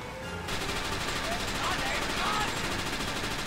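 Aircraft machine guns firing in the Blazing Angels 2 video game, a dense continuous rattle of rapid shots that starts abruptly and keeps up for several seconds, loud against engine drone.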